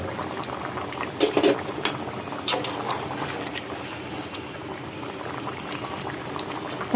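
Ash gourd cooks with shrimp in a pot at a steady, close bubbling boil, with a brief cluster of utensil clinks and stirring early on.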